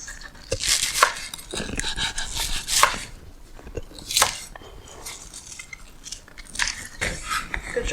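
A knife cuts through ingredients for rabokki on a board in a home kitchen, with quick irregular chopping knocks and scrapes close by and no speech.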